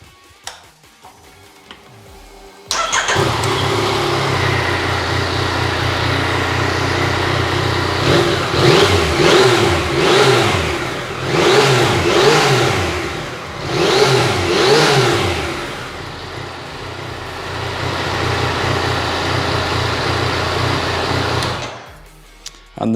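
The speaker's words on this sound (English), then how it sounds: "let's start this up and listen to it run." Yamaha MT-09 Tracer motorcycle with about 5,000 miles cranking and firing up after a quiet pause, then idling with a steady throb and several sharp throttle blips, close and loud, ending abruptly.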